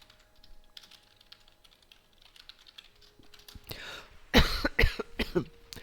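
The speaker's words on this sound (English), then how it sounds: "Excuse me for coughing." Quiet keyboard typing clicks along, then a few loud, close coughs burst out near the end.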